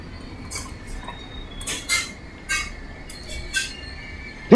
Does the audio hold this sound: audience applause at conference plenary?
no